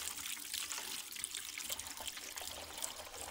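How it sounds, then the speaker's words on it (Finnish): Water running steadily from a tap into a drinker for a meat rabbit, a faint, continuous trickling and splashing with no talk. "tänne tuli heti vettä"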